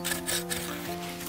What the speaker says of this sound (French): nous allons d'abord passer un coup de scie, un trait de scie en dessous